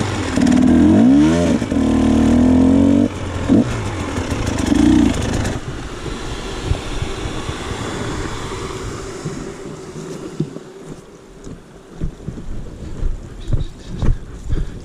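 An engine sputters and catches in the first few seconds with a harmonic whine, then settles into a rough, uneven running noise with wind and water around.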